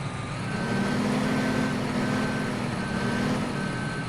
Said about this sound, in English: Oh, stop, tractor, stop.